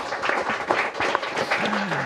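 Audience clapping for a speaker at an indoor panel discussion on transmigration and village development, a brisk, fairly close round of hand claps with a voice starting to speak near the end.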